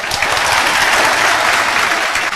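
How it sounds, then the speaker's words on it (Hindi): An indoor audience claps together in a brief, dense burst of applause, loud and steady throughout. "तालियां बजाओ।"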